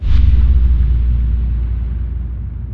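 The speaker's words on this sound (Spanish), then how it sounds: "se divisó una explosión lejana en medio del mar" A single distant explosion at sea, a dull heavy boom from a stray torpedo that quickly fades into a long low rumbling decay, heard alone with no voices.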